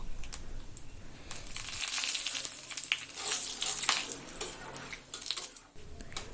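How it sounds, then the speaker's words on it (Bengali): Dried red chilies, panch phoron, whole garam masala and bay leaf pieces frying in hot oil, a close crackling sizzle with spattering bursts and a few clinks of a utensil against the pan. "এখন আমি ফোড়নে দিয়ে দিচ্ছি শুকনো লঙ্কা পাঁচ ফোড়ন গোটা গরম মশলা আর তেজপাতা টুকরো"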